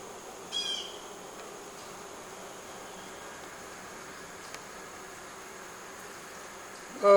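Honeybees at a hive being opened for winter prep give off a faint, steady buzzing hum, with a brief louder burst near the start and a short knock near the end.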